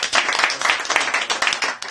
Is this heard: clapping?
yes